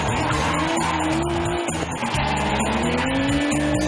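BMW and Nissan drift cars battle through a tie-break round at their limit, engines roaring at high revs under continuous loud tire squeal and skidding, close and unbroken throughout.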